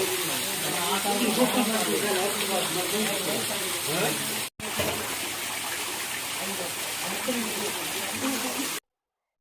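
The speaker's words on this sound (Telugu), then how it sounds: "చూసారా ఆ నీటి శబ్దం" Water flowing and trickling at a goddess temple, a steady near rush of running water that fills the clip with a brief break midway, with faint crowd voices under it.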